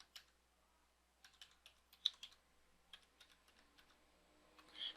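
Password typed on a computer keyboard: scattered bursts of light, quiet key taps with short pauses between, close by and alone with no talking.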